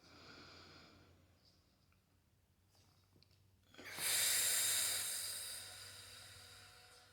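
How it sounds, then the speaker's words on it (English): A slow, deep inhalation in a quiet meditation setting, swelling into a loud, airy breath that holds for a few seconds before easing off, heard close and alone with no talking. "take a deep breath in"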